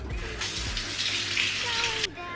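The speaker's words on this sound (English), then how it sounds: "What we're going to do is just add a little splash of water to the blender." A short splash of water pours into a blender in a kitchen while high-protein brownie or muffin batter is being made: a gushing stream lasting about a second and a half, close and fairly loud.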